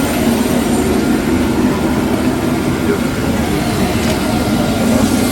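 Aircraft engine roaring steadily at close range as the presidential plane sits after arriving at Bunia airport in Ituri province in the evening, a broad continuous drone with no pauses.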